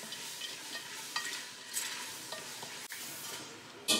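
Seasoned pork for Haitian griot being mixed by hand in a bowl, with short scraping and squelching bursts in an irregular rhythm, close and moderately loud, with no talking.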